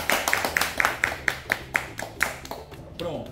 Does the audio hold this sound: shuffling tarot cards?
no